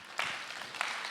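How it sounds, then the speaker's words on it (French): A conference round table audience applauds briefly in a French hall, a short wash of many hands clapping at moderate distance. "je vous prie d'applaudir"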